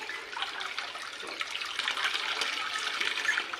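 Water from a hand pump pours in a steady, close splashing stream, continuous for a few seconds without voices.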